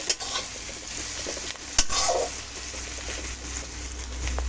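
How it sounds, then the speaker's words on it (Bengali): Chopped onions fry in oil with salt and turmeric, giving a steady, close sizzle under a few scraping stirs and faint clinks of a utensil against the pan. "এখন পেঁয়াজটা ভেজে নেব"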